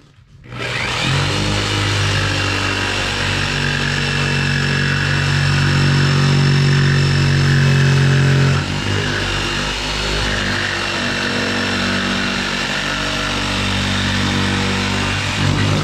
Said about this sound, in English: Then we grab the jigsaw and go right in the hole itself,